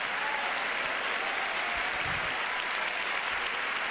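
Applause from a church congregation during a Portuguese-language sermon, a steady, dense wash of clapping hands filling the whole stretch without pause.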